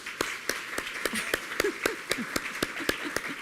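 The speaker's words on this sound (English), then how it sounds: "So can we give her a round of applause?" Applause from the audience at a North Carolina luncheon, with sharp, distinct claps in a loose rhythm from a smallish crowd, close and fairly quiet, with no speech.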